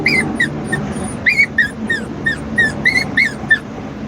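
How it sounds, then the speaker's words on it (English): A female puppy whines and whimpers in a string of high, rising-and-falling cries, about a dozen close, loud yelps spaced irregularly with no speech. "They'll be returning her within an hour saying she don't quit whining."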